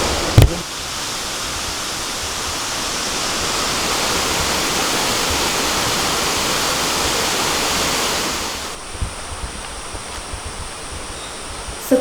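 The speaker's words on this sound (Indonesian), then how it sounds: "menikmati suasana air terjun Ciwaleng" Ciwalen waterfall on the Canopy Trail at Cibodas in Gunung Gede Pangrango National Park roars as a steady broadband rush of falling water for most of the clip, then cuts to a quieter background near the end.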